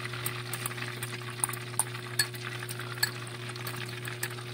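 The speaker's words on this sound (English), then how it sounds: "So I'm adding the garlic." Garlic frying in hot oil in a pan, giving a steady soft sizzle broken by small clicks and taps of stirring, with a low electric hum beneath and no talking.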